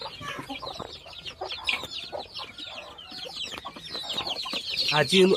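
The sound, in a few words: local Assam chickens and chicks clucking on poultry farm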